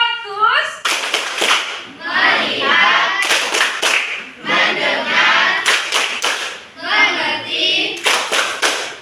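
Children in a classroom clap together in short rhythmic bursts of a focus-clap routine, sharp hand slaps in quick patterns between stretches of lively young voices chanting and talking, all close and loud.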